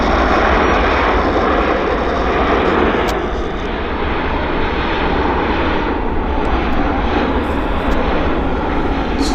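A WestJet airliner touches down at Vancouver airport, its engines giving a loud, continuous broadband roar that holds steady from start to end.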